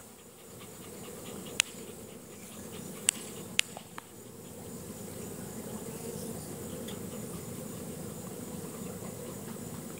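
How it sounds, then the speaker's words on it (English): A large swarm of honey bees, about five pounds, settles on a hive box in a pasture, producing a low, continuous droning hum with a few sharp clicks early on, steady and unbroken throughout. "That's a lot of bees."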